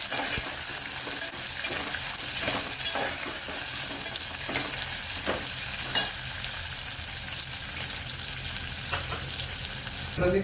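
Chopped onion sautéing in a pan while making vegetable pulao: a steady, close sizzle with scraping stir strokes and small clinks, continuous for the whole stretch with no talking.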